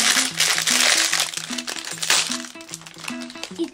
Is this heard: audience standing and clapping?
no